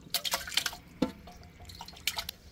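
Water is poured into mutton with fat and pieces of meat for a curry, heard as soft splashes and drips in a few short bursts, faint and close with no talk.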